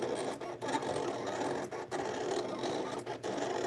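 A Silhouette vinyl cutting machine finishes its current cut on heat transfer vinyl, making a steady close whirring and scraping drone broken by a few brief pauses as the blade carriage moves.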